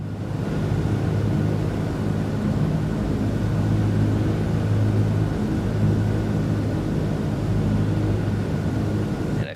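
Steady, loud drone of DC-3 piston engines in Microsoft Flight Simulator, a continuous low rumble with a broad roar that holds evenly throughout.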